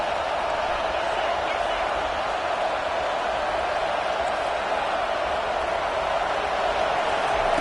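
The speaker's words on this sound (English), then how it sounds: "Decibels rising as the crowd gets behind this defense on 3rd down." Steady roar of a stadium crowd in the Madden 25 football video game, swelling on a defensive third down, a dense continuous wash of cheering that holds level throughout with no distinct voices.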